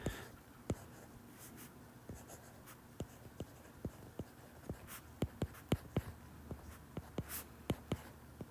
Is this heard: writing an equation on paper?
yes